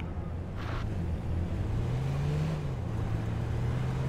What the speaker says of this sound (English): I'm making as much noise as physically possible with the car